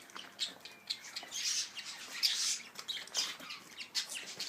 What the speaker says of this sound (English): It's like bad Budgie.